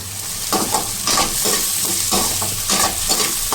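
Green chillies fry in a pan for an arbi (taro root) gravy, a continuous close sizzle with repeated stirring scrapes at a steady pace.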